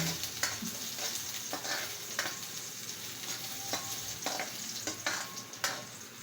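Garlic and onion sautéing in a pan, a steady close sizzle of frying with occasional scrapes and stirs of a utensil, no talking.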